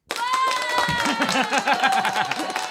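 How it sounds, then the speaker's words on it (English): Applause sound effect played during a live stream, a burst of clapping and crowd cheer starting abruptly and continuing steadily, with a voice talking over it. "It was a bit of delayed applause there."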